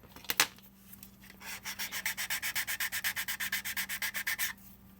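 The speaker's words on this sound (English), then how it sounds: "Just gonna do me some sanding real quick." Rhythmic back-and-forth sanding, about two dozen quick even strokes, close and steady, after a couple of brief knocks.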